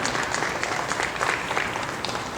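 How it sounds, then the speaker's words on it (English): Audience applause in a live demonstration setting with a dog, a dense burst of many hands clapping steadily at close range for the whole moment, without voices on top. "give Curry and Carla a little bit of a clap"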